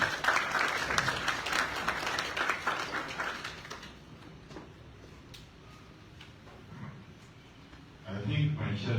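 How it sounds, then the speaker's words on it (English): Conference audience in Freetown, Sierra Leone, applauding a steady round of clapping that fades to a softer patter before a louder burst at the end. "I think my chair deserves another round of applause."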